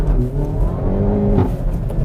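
A 2018 Hyundai i30N pulling hard from a standstill in first gear with traction control cutting in, engine note rising loud and close in a continuous rough surge, with no talk over it.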